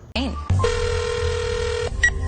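A rapid series of electronic telephone keypad tones, each a steady beep, followed by a long sustained tone, heard clearly and close up.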